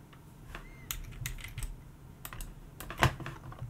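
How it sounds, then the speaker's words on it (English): Typing on a computer keyboard while entering a command in Houdini 3D software: a quick run of light, close key clicks in an irregular rhythm, ending with one sharper, louder keystroke near the end. "So I'm gonna type in hexwf."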